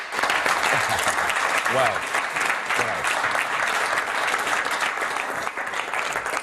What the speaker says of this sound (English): The applause for your question is interesting